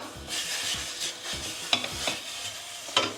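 Butter sizzles in a hot pot for beet bulgur pilaf while a spoon scrapes and stirs it, with soft frying crackle throughout and a few sharper clinks of the spoon against the pot.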